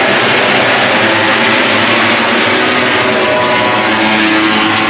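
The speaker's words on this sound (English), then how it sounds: "Those bikes sound so good." MotoGP racing motorcycles at Silverstone in 2023 make a loud, continuous high-revving engine roar with no pauses, steady and close, with no talk over it.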